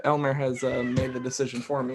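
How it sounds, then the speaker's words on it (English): A cat meows loudly and insistently in a household, its yowls mixing with close voices talking over it throughout. "the cat's yelling"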